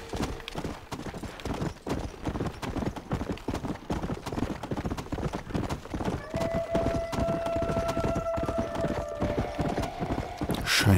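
Horse hooves in Red Dead Redemption: Undead Nightmare, a rapid galloping clip-clop that runs continuously and close, with a sustained tonal whine entering midway and a loud thump at the very end.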